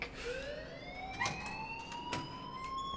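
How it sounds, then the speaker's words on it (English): In the video game Life is Strange, an alarm rings continuously at steady volume, a shrill tone sliding upward throughout, with a couple of brief bumps along the way. "please turn off that alarm since that's your job"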